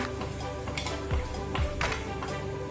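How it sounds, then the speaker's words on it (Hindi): Turmeric goes into hot oil in a pan while cooking mixed paneer, giving a soft, steady sizzle with a few spoon-stirring scrapes against the pan. "आप जैसे कि देख रहे हैं ऑयल गर्म हो चुकी है। अब मैं इसमें पहले हल्दी डाल देती हूँ"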